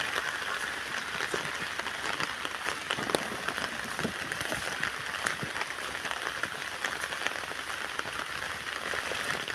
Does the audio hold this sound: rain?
yes